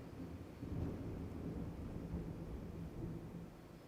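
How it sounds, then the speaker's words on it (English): Deep, continuous rumbling thunder rolls through a thunderstorm, steady and low, heard from indoors with no talking. "Thunder's pretty bad."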